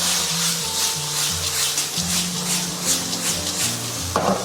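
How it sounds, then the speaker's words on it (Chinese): Mud snails stir-fried with green and red peppers in sauce over high heat, a continuous loud sizzle with scraping and tossing in the wok, spatula knocks recurring, and a sharp clatter near the end. "下入青红椒、泥螺，先爆炒10秒。"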